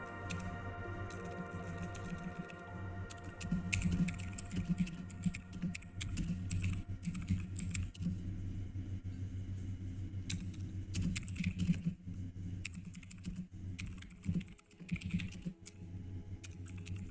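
Steady, uneven typing on a computer keyboard during a live SQL coding session, with rapid close key clicks continuing throughout and brief pauses between bursts.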